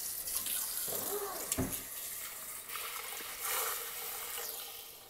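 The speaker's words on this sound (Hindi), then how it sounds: "ये मैंने इसमें मज़ीद 2 गिलास पानी ऐड कर दिया है।" Water pours and splashes steadily into a cooking pot, a continuous bright gushing sound with small clinks, fairly close and alone.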